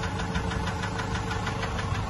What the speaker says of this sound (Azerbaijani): Eşidirsiniz bu səsi? Əsasən də bax motorun maşın alt tərəfindən gəlir bax.